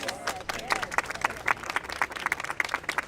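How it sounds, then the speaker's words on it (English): Audience at a public housing audit announcement clapping in a room, a moderate scattering of distinct claps with irregular rhythm, close by and fading slightly toward the end. "So let's give him a round of applause."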